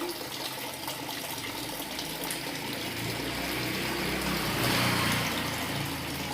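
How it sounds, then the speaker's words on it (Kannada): Water poured from a jug onto potted plants, a steady rushing splash that swells slightly toward the end, close and continuous with no talking. "ನೋಡಿ ಗಿಡಗಳಿಗೆ ನೀರು ಹಾಕ್ತಾ ಇದ್ದೀನಿ"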